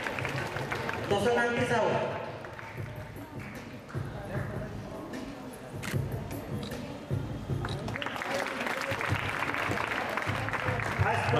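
An audience claps at a school annual day at OAV Balidhipa, Jharbandh, a rolling wash of applause running under an announcer calling out a prize winner, swelling again near the end.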